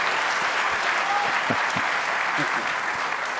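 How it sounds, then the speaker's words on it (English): Snooker audience at the 2023 World Championship final, Selby against Brecel, giving a sustained round of applause that holds evenly throughout, with a commentator's voice briefly breaking through. "a huge round of applause"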